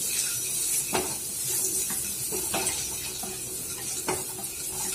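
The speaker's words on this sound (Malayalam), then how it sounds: "ജസ്റ്റ് ഒരു ഷാലോ ഫ്രൈ ആണ്." Eggs shallow frying slowly in a pan for egg masala curry, a steady close sizzle with occasional scraping clicks of a utensil against the pan.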